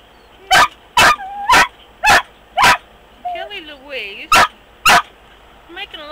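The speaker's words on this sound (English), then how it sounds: "She barks at everybody that gets near the truck." A dog barks loudly and close by at a truck stop, a steady series of sharp barks with short whines and yips in between, and a person speaks briefly.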